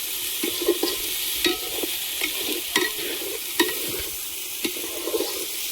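Spices and dal for khichuri lightly frying in a pan, a steady close hiss with repeated scraping stir strokes and clinks spaced through the clip, no voices.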